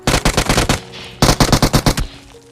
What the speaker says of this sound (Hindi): सी बिल्डिंग से फायरिंग हो रही थी बड़ी तगड़ी